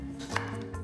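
A knife cuts king oyster (trumpet) mushrooms into slices about half a centimetre thick, giving a single close, soft chop against a cutting board with faint background hum and no talk.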